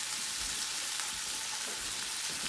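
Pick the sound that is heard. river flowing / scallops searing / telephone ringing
scallops searing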